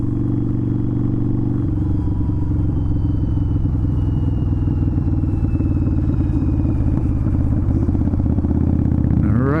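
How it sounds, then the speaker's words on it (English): A motorcycle engine roars steadily at highway speed, with constant wind and road rumble throughout and no pauses. "This will be the first time that I'm ever going on a major highway here on my motorcycle."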